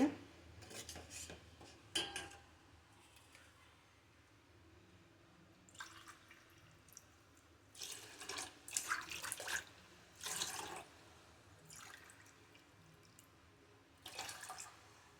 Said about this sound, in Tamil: இப்போ அஞ்சு கிளாஸ் தண்ணி சேர்த்தாச்சு